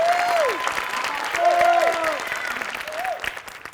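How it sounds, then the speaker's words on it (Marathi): Studio audience at a Marathi comedy show applauding for Shyam, a steady burst of clapping close up, with overlapping voices and bright sung or called-out tones on top. "श्यामसाठी एकदा जोरदार टाळ्या."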